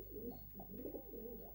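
Soft, repeated cooing from a pigeon or dove, low and rounded calls rising and falling over a steady low hum, fairly faint and close with no voices.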